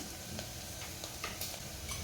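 Chopped onion and ground masala paste being sautéed together in a pan for a mixed sprouted-lentil curry, a soft steady sizzle with faint scattered ticks of stirring, close and quiet.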